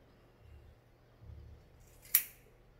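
Scissors cut through hair at home with a single sharp snip, following a couple of faint soft rustles in an otherwise quiet room.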